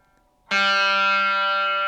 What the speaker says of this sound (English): And then we're going to play the G